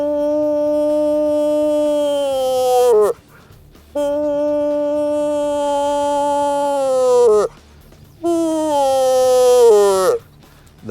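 A DUEL Game Calls moose call blown to mimic a younger cow's estrus whine: three long nasal, wavering whines that drop in pitch at the end, loud and close with short pauses between.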